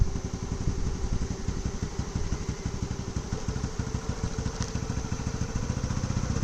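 Motorcycle engine running steadily at low revs, a close, continuous rumble with a rhythmic clatter, as a learner rides slowly during a riding lesson.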